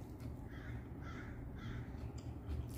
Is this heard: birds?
yes